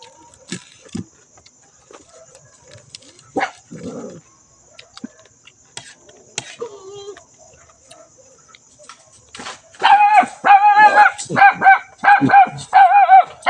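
Farm dogs bark at night beside a river in the countryside: a few scattered sounds at first, then a loud, close run of repeated barks through the final seconds, with birds calling faintly.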